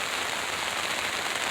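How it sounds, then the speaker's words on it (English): Rain falls steadily on a surface nearby, a dense, even hiss of drops with no pauses or talk, fairly soft throughout. "I think the rain's going to stop anyway."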